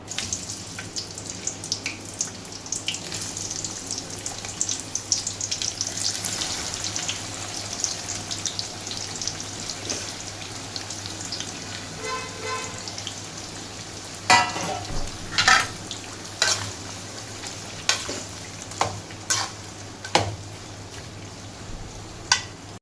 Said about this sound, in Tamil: இப்போ நம்ம வெங்காயத்தை வறுத்துக்கலாம்